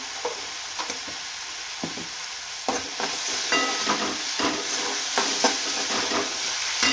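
Onions frying in oil with salt for a dal and onion dish, a steady close sizzle broken by repeated scraping stirs of a spatula in the pan.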